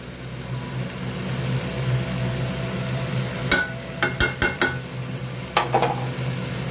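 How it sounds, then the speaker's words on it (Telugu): Spoon stirring a dry fish and tomato curry in a pan just after chili powder goes in, a soft steady simmering hiss broken by several sharp scraping knocks against the pan near the end. "కారం వేసి బాగా కలుపుదాం"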